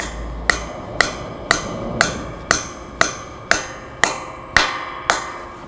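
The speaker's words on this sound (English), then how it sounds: "you can simply just hit the ground anchor from the top all the way down into the concrete" Hammer striking the top of a metal ground anchor to drive it down into concrete: ten evenly spaced, ringing blows about half a second apart, close and loud with no speech.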